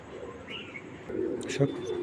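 Racer cock pigeons coo in low throaty bursts, quiet at first and then swelling louder near the end, with faint voices and background murmur around them.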